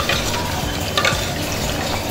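A spoon stirs a thick okra and tamarind gravy in a pot, giving a short run of wet scraping and bubbling sounds at close range.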